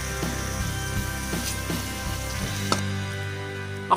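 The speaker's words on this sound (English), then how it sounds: "Here I'm now going to be frying it for another 2 minutes" Beef keema fries with onions and spices in a pan, a steady close sizzle with brief scraping stirs and a soft clink near the end.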